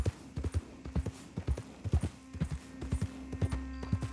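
Horse hooves clip-clop in a steady, rapid trotting rhythm in Red Dead Redemption 2, close and distinct, continuing for several seconds with no talking over them.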